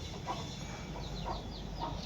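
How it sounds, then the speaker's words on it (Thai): Chickens clucking on a rural Thai homestead, several soft, fairly distant clucks spread over steady background noise. "ไก่พี่น้องเอ้ยไก่"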